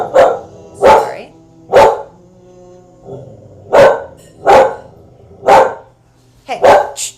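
A dog barks close by in a series of sharp, loud barks spaced about a second apart, roughly seven in all, with a short gap midway and no talking over them.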